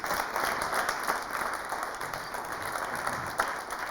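Audience applause breaks out to welcome Ali Verrouté to Le Grand Café, a steady dense clapping that holds evenly throughout, fairly close, with no voices over it.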